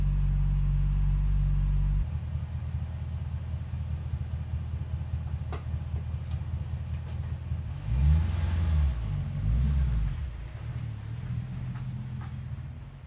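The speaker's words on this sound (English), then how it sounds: "Gonna enjoy this nice morning, take the XR8 out, just go for a little drive" A Ford FG Falcon XR8 out for a morning drive: a steady low engine rumble with a brief rise in revs partway through, heard from inside the car with no talking.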